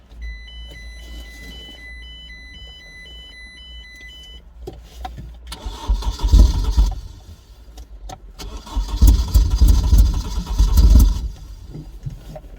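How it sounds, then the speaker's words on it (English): An MG TF engine with no catalytic converter and no engine cover cranks, catches and revs loudly in rough bursts, unmuffled and close, after a stretch of quiet chiming from the dashboard. "going to drive this MGTF up the other end of the yard"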